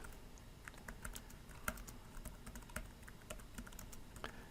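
Typing on a computer keyboard while entering text in Mathcad Prime: a close, steady patter of light key clicks in quick irregular runs over a faint background hum, with no voices.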